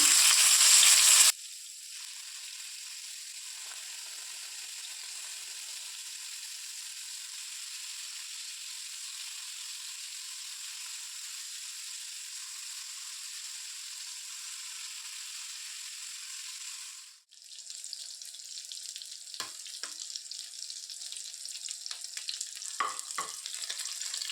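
Chicken pieces frying in oil in a pan for butter chicken, a faint steady sizzle after a brief loud hiss at the start, with light stirring clicks and scrapes later on.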